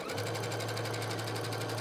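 A sewing machine runs a fast zigzag stitch on scarf fabric, a steady, close mechanical whir with rapid, even needle strokes and no talking.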